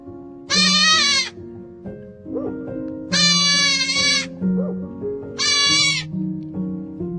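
A goat bleats loudly three times from a video being played, with long wavering cries separated by gaps filled with a quieter droning background.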